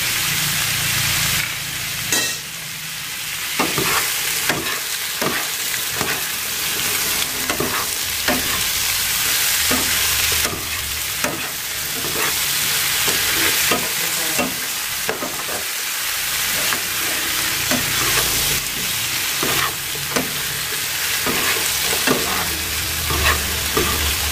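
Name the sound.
pork hock stir-frying with seasoning in a pan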